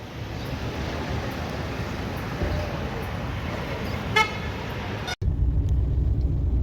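Steady road traffic rumble on a busy street in Kathmandu, Nepal, with a short horn toot near the end and a sudden cut to a different engine drone.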